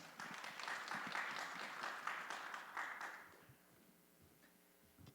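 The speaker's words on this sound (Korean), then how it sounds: "힘찬 박수 부탁드립니다" An audience at a Greening launch ceremony applauds to welcome a speaker giving congratulatory remarks, a lively burst of many hands clapping that fades away over the final seconds.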